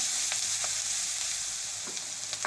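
Crushed green chilli and coriander fry on low heat in a pan for green tuvar kadhi, giving a dense, even, close sizzle with faint crackles.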